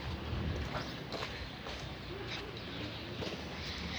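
Soft pigeon cooing and wing flutters over a steady, noisy outdoor background, with faint shuffling steps now and then.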